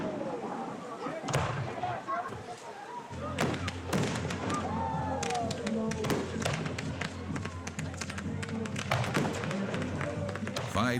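A fireworks show bursts in the sky at a lavish party, with scattered sharp pops, crackles and dull thuds at irregular intervals, fairly faint and distant, with a voice over the top.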